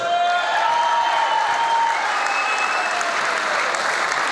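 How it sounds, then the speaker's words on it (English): Sustained applause from a large crowd at an anniversary dinner fills the room, steady and dense throughout with no voices on top. "Big round of applause."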